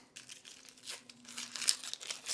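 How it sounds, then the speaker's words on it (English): Dry, papery crinkling and light tearing as the skin is peeled off a yellow onion, close and quiet, in a few short rustling bursts. "we're gonna make a slight cut on the onion so we can peel it really well"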